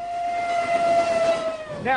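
A steady, piercing steam locomotive whistle holds one long tone, then slides into a wavering pitch at the end.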